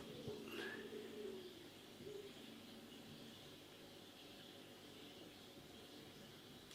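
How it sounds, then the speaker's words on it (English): A pigeon coos a few soft, low notes early on, fairly close but quiet, over a faint steady hiss with no talking. "by the sounds of it, so does the pigeon"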